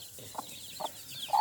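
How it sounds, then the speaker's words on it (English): Baby chicks and their mother hen on a lawn, with soft clucks and faint high peeping chirps in a short, close burst. "And here the very baby chicks with their mother."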